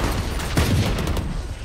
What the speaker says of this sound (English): trading shots, and Dean is taken out by Alex.